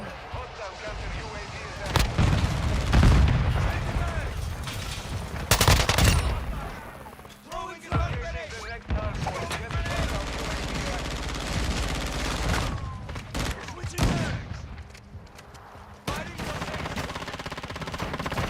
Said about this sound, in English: I was shooting, but okay.